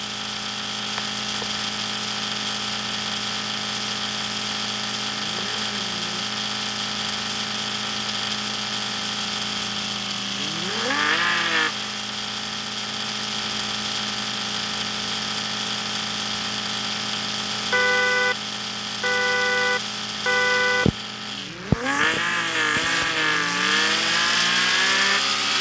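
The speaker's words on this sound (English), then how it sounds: "This is how you brake boost." Car engine in the Car Parking Multiplayer 2 video game, droning steadily while a brake boost launch builds, then revving up in rising sweeps, with a sharp climb near the end.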